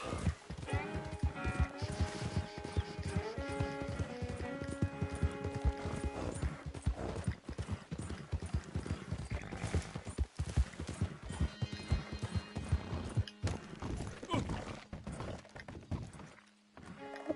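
Hooves of a horse in Red Dead Redemption 2 Online clip-clop steadily over layered game music and ambience, with brief clattering impacts partway through.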